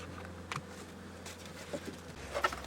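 Bees from a swarm buzz around a new hive body as they come out of the inner cover, faint intermittent buzzing with light taps and handling noise close by.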